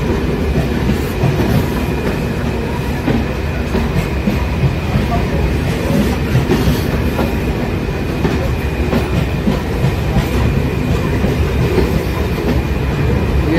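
Kamla Ganga InterCity Express train running on rails in eastern India, a steady loud rumble with rhythmic wheel clatter that fills the whole stretch, close by and continuous.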